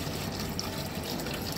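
Water is poured into a container during a children's sink-or-float experiment, a steady, soft splashing trickle running throughout with no talk.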